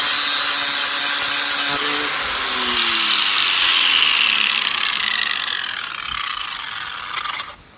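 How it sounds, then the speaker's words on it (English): Grinder working down a washer held on a bolt, giving a loud, close, continuous high whine with shifting tones that fades and winds down at the end. "and then hit it with your grinder"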